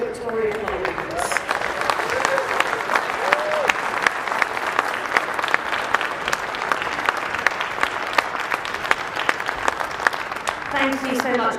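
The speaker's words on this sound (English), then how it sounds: "please give a big birthday round of applause to Victoria Collins" A Liberal Democrat conference audience applauds for Victoria Collins on her birthday, a dense, even roar of clapping with sharp individual claps poking through, sustained for about eleven seconds with some vocal cheers.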